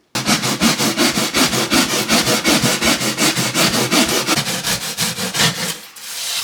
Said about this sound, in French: Là je lime et toi, ensuite tu vas venir poncer pour que ce soit propre.